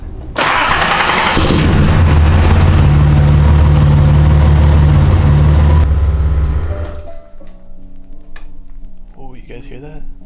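A Datsun car engine cranks and catches, roaring loudly for several seconds, then drops to a quieter, steady idle after the alternator repair. Someone talks over the idling engine.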